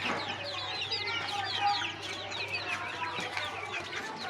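Chickens clucking and chattering repeatedly, several birds close by, with a low steady hum underneath.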